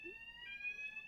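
A household fire alarm keeps blaring, a steady shrill electronic tone with a brief low thump near the start and no voices.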